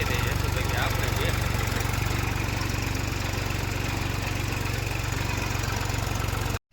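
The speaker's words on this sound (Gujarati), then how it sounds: "3 ટ્રેક્ટર ચાલુ ભેગા કર્યા છે" Tractor engines idling together on a farm, with a loud, steady low throbbing chug and rattling vibration that runs unbroken before cutting off abruptly at the end.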